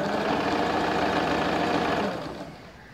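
A sewing machine stitches straight-cut ladies' pants with a steady, close motor whir and fast needle chatter that runs evenly, then eases off and quietens near the end.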